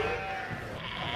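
Sheep bleat around the pens at an agricultural show, a short, steady wavering call heard close amid a low background murmur.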